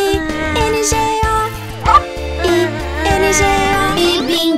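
Cartoon dog barks woven through a Portuguese-language children's song about a farmer's dog, the yips and bow-wows sitting amid bright music at steady volume.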